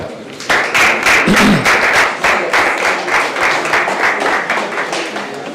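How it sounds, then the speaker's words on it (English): Applause from an audience at a startup pitch event starts abruptly and swells into a full, continuous round of clapping with some crowd murmur, tapering slightly near the end. "You can clap"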